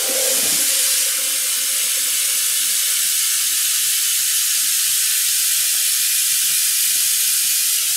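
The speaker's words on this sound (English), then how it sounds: "So you're going to start to add water into that." Water gushes from a tap into a pot for dyeing yarn in a steady, loud hissing stream, unbroken for several seconds, close by with no voices.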